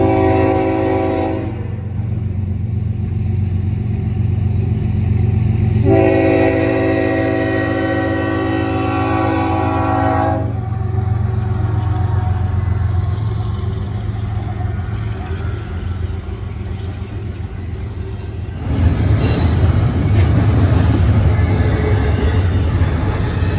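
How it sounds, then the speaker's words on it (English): CSX freight train I-136 with three locomotives passes at Brunswick. The horn blasts loudly several times over the deep rumble of the engines, and near the end the roar of the passing cars swells. "CSX I136 with a pretty cool 3 locomotives at Brunswick"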